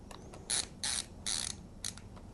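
Ratchet screwdriver clicking as it backs screws out of a Lenovo ThinkPad laptop, four short bursts of rapid ratcheting close up, each lasting a fraction of a second with brief pauses between.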